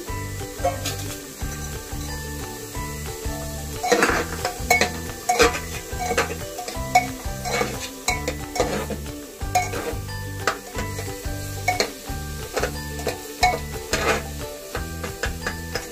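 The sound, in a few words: chopped beans being stir-fried in a pan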